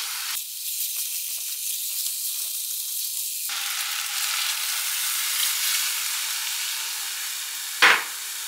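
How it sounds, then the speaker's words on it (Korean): Two cups of raw rice are stir-fried in a pot for pot-cooked rice, giving a continuous hissing sizzle that shifts in tone partway through, followed by a single brief clatter near the end. "쌀 두 컵. 볶아주세요."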